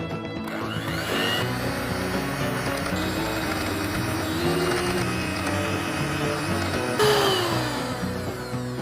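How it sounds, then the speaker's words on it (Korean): Electric hand mixer whipping unsalted butter into a cooled mocha cream filling for macarons: a continuous close whirring motor hum with shifting pitch as the beaters work through the mixture, stopping briefly near the start and rising again toward the end. "자, 핸드믹서로 휘핑해 주겠습니다."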